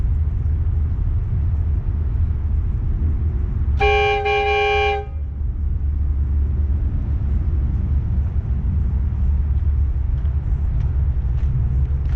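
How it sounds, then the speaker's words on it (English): A three-bell horn with a small electronic compressor on a Jeep Commander blares once in a single chord-like blast lasting about a second, over a constant low engine rumble. "we'll blow the horn a couple of times"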